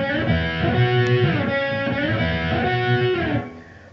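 Electric guitar with effects plays the opening phrase of a song's solo, a short melodic figure repeated about three times, loud and close with no talking, ending with a fade.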